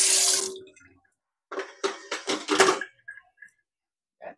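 Water drawn from a household tap, splashing in bursts of several short gushes after an opening hiss, then small drips and trickles at the end, fairly faint and close.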